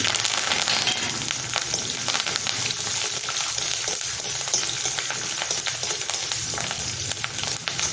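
Green chillies and curry leaves frying in hot oil for a sour rice upma, with a loud, continuous crackling sizzle and sharp popping spatters throughout, no voices.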